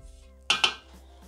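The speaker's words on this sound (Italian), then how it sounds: "Riuniamo sul fondo del boccale con la spatola." A spatula knocking and scraping inside a Thermomix mixing bowl, two sharp close metallic clacks in quick succession followed by fainter small taps.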